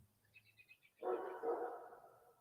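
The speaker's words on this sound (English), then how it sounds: "my dog is out there. You can hear him in the background." A dog barks outside, one short muffled burst heard faintly from a distance, preceded by a few soft, high chirping tones in an otherwise quiet setting.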